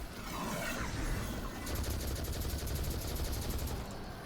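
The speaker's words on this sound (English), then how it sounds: "you can actually apply a long range weaken effect by just shooting your Celestial Fire" Rapid automatic gunfire from the Celestial Fire weapon in a video game, a continuous rattling stream of shots, moderately quiet, with a brighter, more evenly pulsed burst in the second half.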